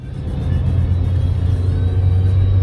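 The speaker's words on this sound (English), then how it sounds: "Got the car, got on the freeway, we're moving pretty good." A car cruises along the freeway, a loud steady low rumble of engine and road noise filling the cabin with no break, no talking heard.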